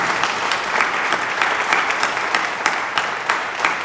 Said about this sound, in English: please another round of applause for our panelists